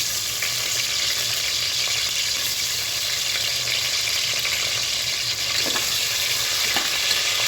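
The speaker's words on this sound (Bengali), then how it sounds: "এখন আমি কয়েক টুকরো আলু ভেজে নিচ্ছি।" A few potato pieces fry in hot oil in a frying pan, producing a steady, close, continuous sizzling hiss with faint crackles throughout.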